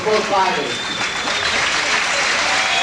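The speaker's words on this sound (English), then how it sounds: "the crowd responding as these fighters put on a great show here in Madison Square Garden's Felt Forum" Crowd applauding and cheering at a 1988 kickboxing fight in the Felt Forum at Madison Square Garden, New York; steady, dense applause fills the arena throughout, with a broadcast commentator's voice briefly over it at the start.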